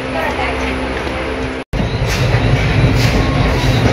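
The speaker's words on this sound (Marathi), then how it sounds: "आपण आता ट्रेनमध्ये बसलेलो आहे आणि थोड्याच वेळात ट्रेन सुटेल" Inside a passenger train, a loud, steady rumble fills the carriage, with one sudden brief dropout before the dense rolling noise resumes.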